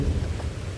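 Rain falls steadily while a low rumble of thunder rolls underneath, all in one brief, dense wash of sound without speech.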